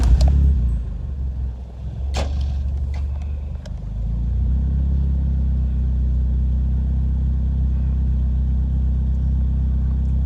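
A 1986-89 Honda Accord carbureted engine idles steadily with a deep, even rumble up close, after a few brief clicks and rough moments at the start.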